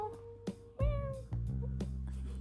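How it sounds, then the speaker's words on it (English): A small kitten meows several times in quick succession, thin and high, close by in a quiet room. "A little tiny meow."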